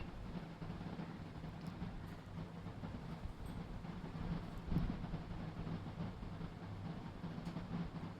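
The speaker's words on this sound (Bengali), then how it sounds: "মেট্রোটা গেল এখন মাত্র" A metro train pulls away from an elevated station in Dhaka, a steady low rumble and hum of the cars rolling out that holds evenly throughout with no talking.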